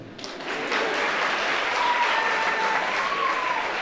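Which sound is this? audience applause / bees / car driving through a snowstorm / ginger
audience applause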